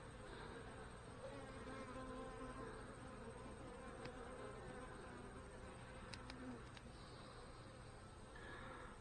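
A dense, steady buzz of many honey bees in a hive hums close by, continuous and low, with a few faint clicks and a distant bird now and then.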